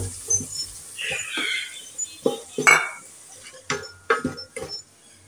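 Onion paste frying in a pan with whole cinnamon and cardamom, a low sizzle under repeated spoon scrapes and metallic clinks as it is stirred, close and uneven.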